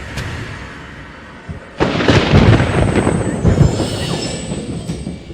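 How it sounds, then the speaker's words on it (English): A lightning bolt's thunder cracks in suddenly after a quiet stretch, then rolls on loudly for several seconds with no voices. "One bolt of lightning."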